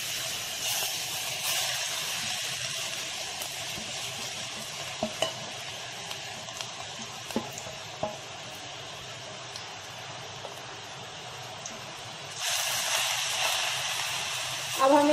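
Grated bottle gourd fries in ghee with a steady hiss while a spoon scrapes and stirs the pan in repeated strokes, and the sizzle swells louder near the end.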